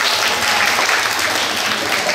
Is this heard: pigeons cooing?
no